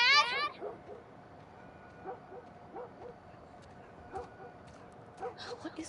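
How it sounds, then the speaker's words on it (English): A dog in The Last of Us Part 1 barking frantically, distant yips and whining barks repeating through the scene with a louder burst at the start, mixed with faint game ambience and brief voices. "That dog is absolutely losing its mind."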